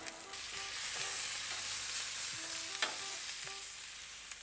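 Loud, steady sizzling of duck being turned on an Onyx 4S grill, with occasional scraping from stirring or turning. No one speaks.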